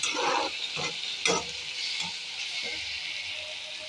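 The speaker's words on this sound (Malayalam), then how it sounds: "ശകലം സോയാ സോസ് ഇട്ട് കൊടുത്ത് നമുക്കിതൊന്ന് നല്ലപോലെ ഇളക്കാം" Idli pieces stir-fried with soy sauce in a pan give a steady sizzle, with a few scraping stirs near the start and lighter stirring later, close and without talk.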